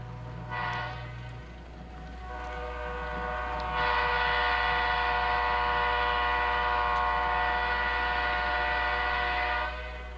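A special train hauling Southern Pacific locomotive 1740 on a heavy-duty flatcar arrives, its horn sounding in long sustained blasts over the low rumble of the moving train, loud and fairly close.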